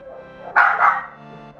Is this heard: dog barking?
yes